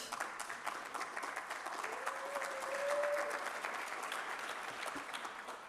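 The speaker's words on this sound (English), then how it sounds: "I see Councillor Canal clapping the most" An audience at a mayor's State of the City address applauds steadily, a dense patter of many hands clapping at an even level for several seconds.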